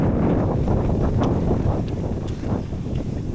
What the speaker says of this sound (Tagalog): Grabe mahangin yan